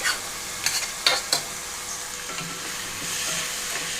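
Cooked rice is worked into a tomato mixture in a pan, with close, uneven scraping stirs over a soft, steady sizzle and no talking.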